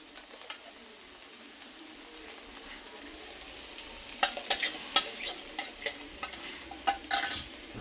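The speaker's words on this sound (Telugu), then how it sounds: "నీట్గా ఒకసారి కలిపేసుకుందాం మంచిగా" Vangi bath with spice powder is stirred in a pan. Quiet scraping at first, then a run of close, repeated clatters and scrapes of the spoon against the pan over a faint sizzle.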